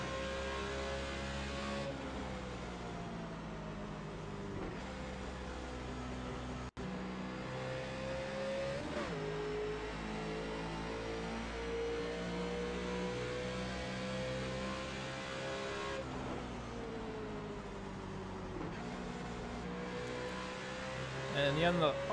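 A NASCAR Nationwide race car at Phoenix in iRacing, its engine droning steadily with repeated downshifts and rising revs, pitch steps jumping several times across a long stretch, with a voice talking at times over the engine.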